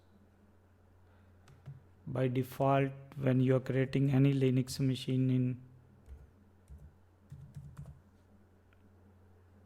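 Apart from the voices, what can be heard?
typing on a computer keyboard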